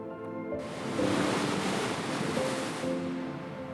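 Ocean surf washes steadily along the Sardinian coast, a broad continuous roar of breaking waves with some wind noise, swelling after a quieter start and holding loud throughout.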